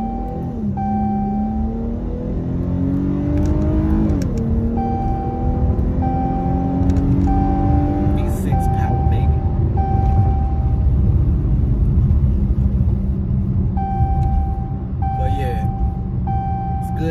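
A Dodge Challenger with a brake problem drives down the road, its engine and tyre noise a steady low rumble throughout, with a repeated short electronic chime sounding inside the car.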